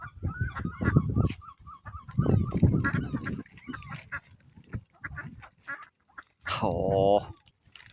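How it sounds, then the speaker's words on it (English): Ducks quack and honk at a busy pond, several birds calling in close, overlapping bursts with a loud harsh call near the end, while a person speaks between the calls. "And the ducks."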